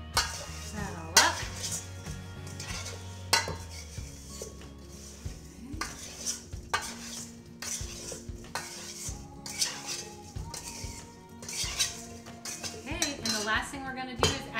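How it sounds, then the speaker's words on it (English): Potatoes being tossed with Hidden Valley Ranch dressing powder in a pot or bowl, with a busy, continuous scrape and clatter of a utensil against cookware, loud and close, with no voices. "Mix that all up."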